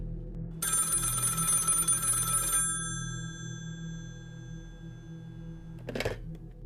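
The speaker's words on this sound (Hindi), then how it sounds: "कोई 3 महीने बाद एक दिन शाम को असलम के अब्बा का फ़ोन आया।" Telephone bell ringing in a horror story setting, a loud electronic ring with steady tones lasting about two seconds over a low background hum, then fading, followed by a brief click near the end.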